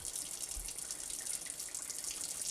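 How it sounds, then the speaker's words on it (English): Water is poured into a cooking pot while Afghan pulaw rice is being made. It makes a steady, close, continuous rushing splash that does not stop for the whole moment. "now I'm going to add some water"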